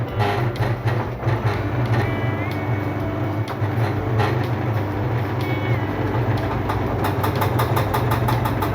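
A steady washing machine hum with rhythmic thumping and rattling runs continuously as it churns through its rinse spin, close and fairly loud.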